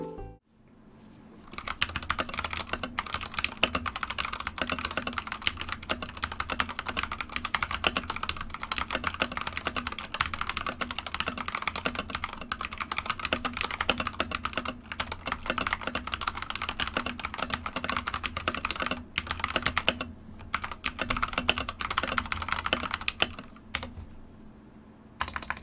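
A BOYI WK68 mechanical keyboard with stock keycaps and switches is typed on continuously and close up, a dense rapid clatter of keystrokes at even strength with no voices.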